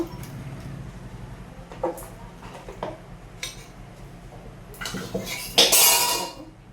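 Cooked potato and besan curry is tipped from a pot into a dish, with scattered metal clinks and scrapes of utensils, then a louder wet, rushing pour and scraping toward the end.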